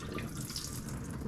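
Cloudy rinse water is poured out of a pot of rice while making chicken biryani, giving a short, steady, close pouring rush and splatter with no talking.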